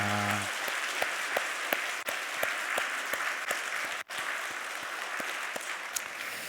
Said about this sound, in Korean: 우리 힘차게 옆에 분 바라보며 박수하도록 하겠습니다